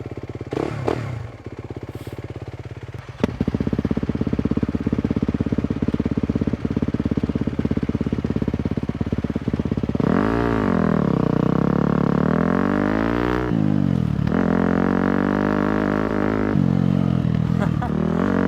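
A KTM or Suzuki motorcycle riding along, its engine droning steadily and rising in pitch through revs and gear changes, loud and close throughout, with a rider's voice partly heard over it.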